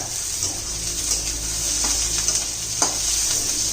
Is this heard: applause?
no